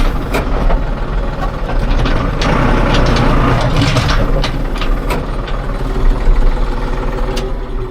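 A tractor's heavy diesel engine idles loudly and continuously, a steady low rumble with rattling, clanking noises on top.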